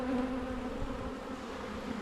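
Agitated honey bees swarm around an open hive during a brood inspection, making a dense, steady, close buzzing drone with no talk.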